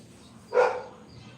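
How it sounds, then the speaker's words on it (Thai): A single short bark from a neighbouring dog, fairly close, rising over a quiet room background. "ก็เลยได้ยินเสียงเห่าของสุนัขข้างบ้านด้วยนะคะ"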